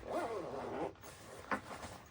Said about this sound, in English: I'm actually going to open the pocket from the zipper.